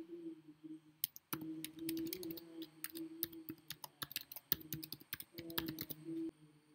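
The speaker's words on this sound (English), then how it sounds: "Type CC or BCC, followed by the emails you want." Computer keyboard typing in quick irregular clicks and taps, close and clear over a faint steady background tone.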